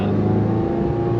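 A 2009 Ferrari 430 Scuderia engine lugging at low RPM makes a steady, deep droning rumble with a thick, close-up tone throughout.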